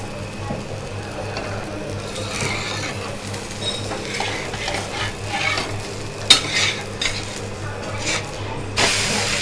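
Thuthuvalai adai cooking in sesame oil on a pan, a close, continuous sizzle broken by scraping and metal spatula clinks against the pan, with a couple of sharper knocks near the end.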